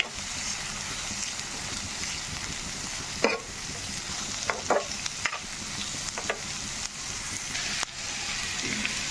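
Chopped onions fry in oil with cumin and mustard seeds while being stirred, a soft steady sizzle broken by occasional sharp spoon scrapes and taps against the pan, fairly quiet and without voices.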